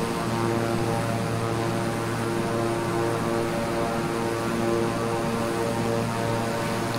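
A Beechcraft 350i propeller aircraft in Microsoft Flight Simulator on a night flight from Dallas Fort Worth toward Austin gives a steady, unbroken engine and propeller drone at an even level throughout, with no voices.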